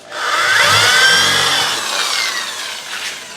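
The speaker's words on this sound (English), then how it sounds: "Who uses a corded drill these days?" A corded power drill whines loudly at high speed, its pitch sliding and wavering as it runs for a few seconds, then easing off slightly.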